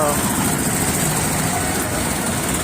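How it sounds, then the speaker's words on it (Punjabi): Tractor engines run during a peaceful farmers' tractor parade and march in Bathinda on Republic Day, a steady dense rumble with faint voices mixed in. "ਮਾਰਚ ਵਿੱਚ ਟਰੈਕਟਰ ਸ਼ਾਮਲ ਹੋਏ ਨੇ"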